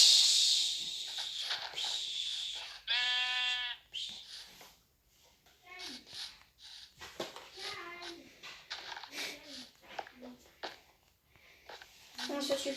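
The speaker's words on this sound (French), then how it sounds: "Mouton." Sheep bleating in Minecraft: a clear, tonal game bleat stands out near the start, while someone talks over and after it and faint game sounds carry on beneath.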